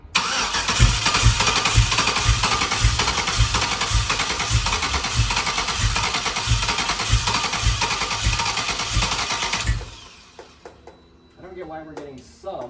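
Chevrolet Nova fitted with an LS 5.3 V8 cranks and runs roughly in a garage, a loud, steady, lumpy throb with repeated low pulses for about ten seconds before the engine cuts out, leaving faint voices and clatter.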